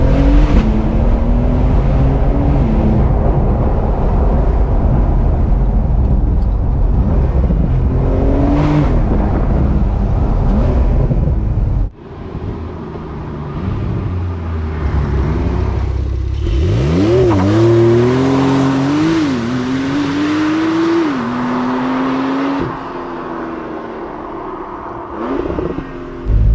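Porsche 992 Carrera with a Quicksilver stainless steel exhaust, revved hard in sport mode. The engine note climbs and falls in loud, close sweeps, with a brief cut near the middle and then more rising revs.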